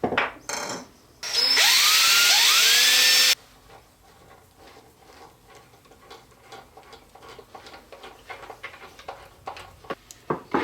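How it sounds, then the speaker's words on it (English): A power drill whines loudly in a short burst, revving up and down while drilling pilot holes for case hinges, followed by scattered wooden taps and clicks as work continues nearby. "do a little bit of drilling of pilot holes"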